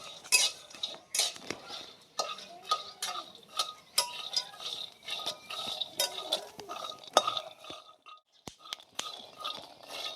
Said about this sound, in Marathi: शेंगदाणे वाटायसाठी भाजते लसणाच्या दोन कुड्या घेतल्या